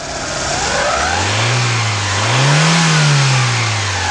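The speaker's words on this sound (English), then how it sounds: "And the carburetor's just beginning to open." A 1997 Ford Escort engine fitted with a Mikuni carburetor conversion revs loudly and steadily nearby, its pitch rising and falling in a smooth swell with no talking over it.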